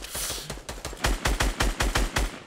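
Rapid gunfire aimed at a tree in Fortnite: about a dozen evenly spaced, punchy shots in quick rhythmic succession, loud and close with no talk over them.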